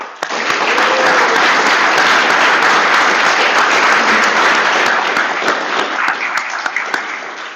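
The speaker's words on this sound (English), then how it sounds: "So let's give another round of applause to our partners and our staff here at the city." An audience at a city council swearing-in ceremony applauds in a dense, steady wash of clapping that holds strong for about seven seconds before easing slightly at the end, with no talk over it.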